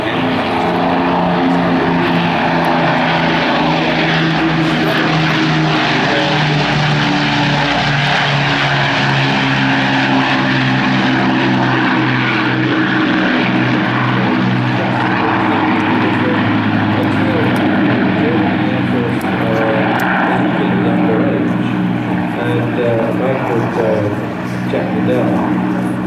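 A Battle of Britain Memorial Flight propeller aircraft at the Flying Legends air show, its heavy piston engines giving a loud, steady droning roar that holds for the whole stretch.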